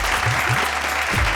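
Studio audience applauding a contestant on the Raja Sundari 2022 reality show gala round, a short steady burst of clapping filling the room, with a faint voice underneath.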